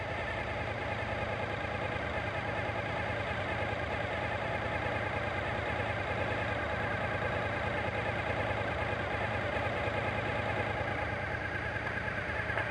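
A Suzuki engine idles steadily at 1200 RPM, a constant even hum with a faint mechanical buzz running the whole time, close and unchanging, no voices.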